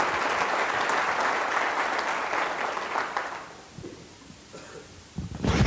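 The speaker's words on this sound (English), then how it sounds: "This is where you give yourself a round of applause" Audience applause after a group effort: steady, dense clapping for about three and a half seconds that then thins out and fades, leaving a quieter room before a short burst of noise at the end.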